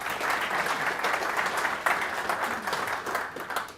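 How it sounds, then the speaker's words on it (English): Steady applause from an audience at a product announcement for the Jet Press FP790 flexible-packaging press, dense clapping continuing for several seconds at moderate distance with no speech over it. "you gave him a round of applause"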